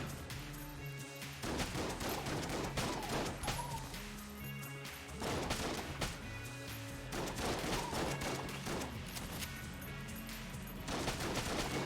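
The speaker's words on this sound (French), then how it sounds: "Ceci est un fusil à pompe. Vous pouvez très bien le voir à sa cadence de tir." A pump shotgun in the video game Enter the Gungeon fires in rapid, dense volleys, with loud overlapping blasts and crashes repeating continuously throughout.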